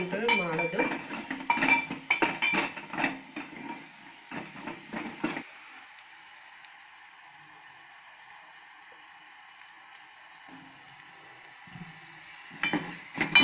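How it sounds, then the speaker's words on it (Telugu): Moong dal frying and sizzling in a pan while being stirred for a curry, with scraping clinks of the utensil against the pan in bursts, then a steady hiss of frying with quiet stirring noises returning near the end. "ఇలా పప్పు మంచి వేయాలి, ఇప్పటికీ కలుపుతూనే ఉండాలి"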